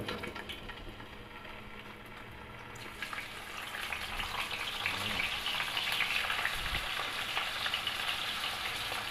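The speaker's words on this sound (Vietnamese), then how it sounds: "thì chảo nóng mình cho cá mình chiên cả nhà" Fish frying in a hot pan, a steady sizzle that grows louder and denser after the first few seconds and holds close and continuous with no talk.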